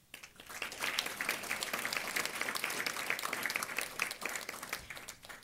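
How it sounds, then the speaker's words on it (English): Audience at a Fort Bend ISD school board meeting applauds an honored student orchestra member; clapping swells in quickly and holds steady from many hands, moderately loud in a large room. "a big round of applause for him"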